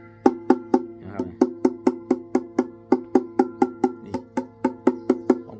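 Rapid, even knocks on the hollow wooden body of an acoustic phin, a Thai lute, each tap ringing with a short resonant tone, repeated steadily about three times per second.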